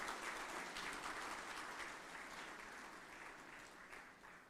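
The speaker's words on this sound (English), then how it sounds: "Please give yourselves a round of applause." An audience at a national quality awards ceremony in Guyana applauds, a broad, even roll of many hands clapping that fades slightly toward the end, heard faintly from a distance.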